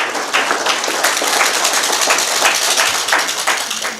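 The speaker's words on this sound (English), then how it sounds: "A clap for yourselves." Applause from a youth conference audience of delegates, dense and steady clapping filling the hall for several seconds, fairly loud and continuous with no talk over it.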